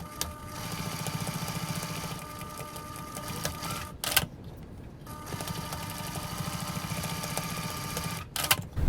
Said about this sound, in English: So now we're going to top stitch our strap tab pieces